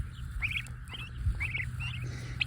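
Free-range turkeys calling outdoors on a farm with chickens and ducks nearby, a series of short repeated yelps in uneven bursts over a low rumbling background, with no talk.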